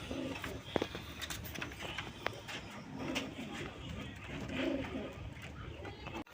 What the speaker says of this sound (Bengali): বন্ধুরা এখানে এক জোড়া মক্ষী কবুতর আছে, দেখেন একবার কুচকুচা কালো